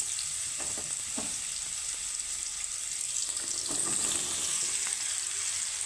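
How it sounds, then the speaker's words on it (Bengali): Cut pointed gourd (potol) pieces fry in hot oil, giving a steady close sizzle with occasional stirring clatter and no voices. "তো পটলগুলো আমি হালকা করে ভেজে নেব"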